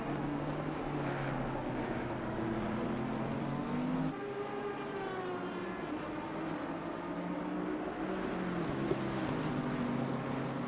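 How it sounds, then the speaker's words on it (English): Aston Martin V12 engine in a PC racing game at Hungaroring, a steady sustained drone with shifting harmonic tones as revs rise and fall, continuous and fairly loud with no talking. "Still hearing that beautiful Aston Martin V12 engine."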